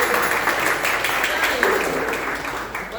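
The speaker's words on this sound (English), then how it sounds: "Clap for him." A crowd applauds a little boy at a Food for Love community program in Hiberdene on the KZN South Coast, with dense, loud clapping sustained throughout and voices mixed in.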